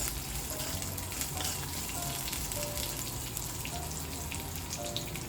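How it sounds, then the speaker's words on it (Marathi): Curry leaves sauté in hot oil for a spinach pulao, giving a continuous dense crackling sizzle close up, with faint tonal hums and no talk. "कढीपत्त्यालाही आपल्याला छान असं परतून घ्यायचं आहे"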